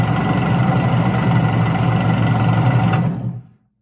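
A Kawasaki JS 440 stand-up jet ski engine is cranked with the choke pulled: a steady, dense mechanical churning for about three seconds that then cuts off abruptly into silence, with no one speaking.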